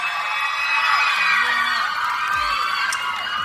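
A large crowd screams and cheers continuously at an outdoor showcase in Siam Square, Bangkok, high-pitched shrieks layered into a dense, sustained roar with a few whoops rising above it.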